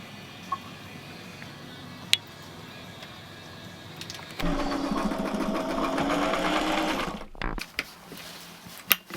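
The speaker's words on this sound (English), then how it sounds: "so that I can sew a strap on the laundry bag" A sewing machine stitches a strap onto a laundry bag, starting with light scattered clicks and then running in a steady, dense whir for about three seconds before stopping with a few sharp clicks.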